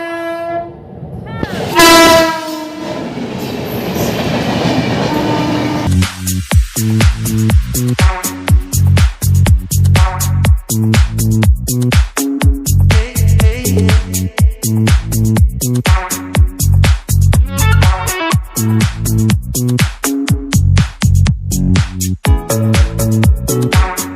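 A passenger train heading to Guwahati from Bongaigaon sounds a loud, long horn, then rolls on with a steady, loud rhythmic clatter of wheels over rail joints.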